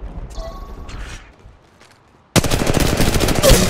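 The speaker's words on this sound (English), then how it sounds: "Shots fired" Quiet game ambience with a few faint clicks gives way abruptly to loud, close automatic gunfire in Apex Legends Mobile, a rapid rattling burst of shots that continues to the end.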